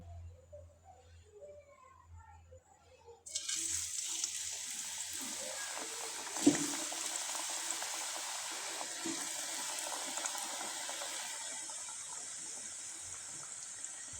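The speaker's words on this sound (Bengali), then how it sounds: "এই পিঠাগুলো আমি কয়েকটা আপনাদের ভেজে দেখিয়ে দিচ্ছি" Semolina pitha dropped into hot oil, a sudden loud steady sizzle and bubbling that starts partway through and continues close by without letup.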